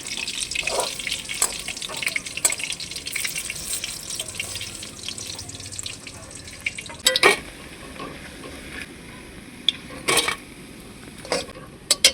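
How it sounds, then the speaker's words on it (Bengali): Bok flower fritters fry in oil with a soft, continuous sizzle, broken by sharp clinks and scrapes of a utensil against the pan at irregular moments. "বাকি বড়াগুলোকেও আমি ভেজে নেব।"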